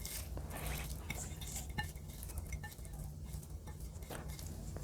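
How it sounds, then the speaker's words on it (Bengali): Chili and onion mixed together by hand or spoon for bottle gourd leaf bhorta. Quiet, close squelching and soft scraping come in irregular bursts, with an occasional light clink of utensils and no speech. "এখন পেঁয়াজ আর মরিচটাকে একসাথে মিশিয়ে ফেলব।"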